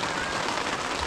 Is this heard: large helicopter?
no